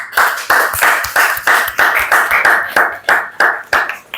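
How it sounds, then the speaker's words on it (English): Hands clap in unison, about nine sharp bursts in a steady rhythm roughly twice a second, close and loud with no talk, as students at an English accent training class follow along. "When I'm clapping, you all will clap"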